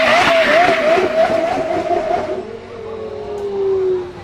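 Porsche Carrera GT V10 engine, revving to 8,400 RPM, revs high with a sharp, screaming tone that climbs and holds, then fades to a lower drone as the car passes, loud and close.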